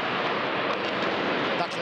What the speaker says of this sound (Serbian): ovo je zvuk koji prati vojni aerodrom